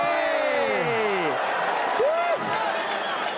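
Crowd cheering and applause at an MMA fight, loud and continuous, with a commentator's voice rising over the roar.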